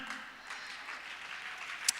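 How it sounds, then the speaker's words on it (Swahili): Applause from a congregation during a church sermon by Rev. Dr. Kimaro: a steady wash of clapping from many hands, moderately loud and filling the space, with no single standout claps. "Hayo makofi hayatoshi."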